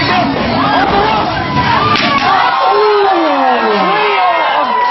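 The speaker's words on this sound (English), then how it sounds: "Trio of chops that the crowd is enjoying to the utmost." A wrestling crowd at a CWF Mid-Atlantic event roars and cheers loudly and continuously as a trio of chops lands in the ring, a dense wall of voices with rising shouts throughout.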